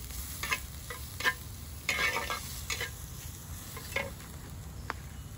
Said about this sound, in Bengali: খুব ভালো করে নেড়ে চেড়ে জিনিসটাকে লাল লাল করে একটু ভেজে নিতে হবে, যাতে নিচে লেগে না যায়